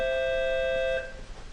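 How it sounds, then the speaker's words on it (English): A single clear bell-like chime holds steadily, then cuts off abruptly and leaves a faint ringing decay against quiet background. "Bells. I'm hearing bells."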